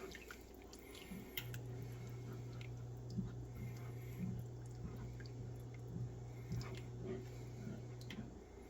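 Skillet lasagna ingredients being stirred in a cast iron skillet, with soft wet squishing and scraping that comes and goes over a steady low hum, close and fairly quiet.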